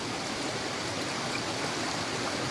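Stream water rushes steadily over rocks beside village fish traps, a constant broad hiss and churn filling the whole stretch, close and fairly loud, with no voices.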